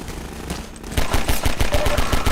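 Gunfire in Half-Life 2, a rapid string of about a dozen loud, close shots in a steady rhythm after a short lead-in of game noise.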